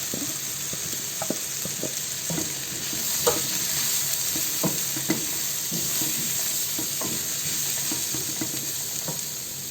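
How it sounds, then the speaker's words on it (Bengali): Onion frying with chopped garlic and ground chilli, cumin, turmeric and coriander spices in a pan, a continuous bright sizzle with regular stirring scrapes and taps, close and steady with no talking. "পেঁয়াজটা সামান্য ভেজে আমি দিয়ে দেব এখানে রসুন কুচি"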